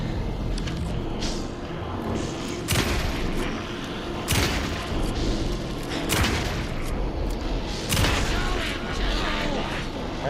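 Gunshots in the video game Alan Wake II, several sharp loud bangs spaced a second or two apart over a rumbling game soundscape, with a voice talking in between.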